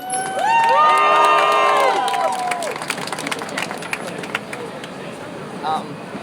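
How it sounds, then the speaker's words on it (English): Crowd at a rally for the Hong Kong community in New York cheering and applauding, loud at first with excited shouts, then fading to scattered claps and murmuring chatter. "Please give Jeffrey a warm round of applause"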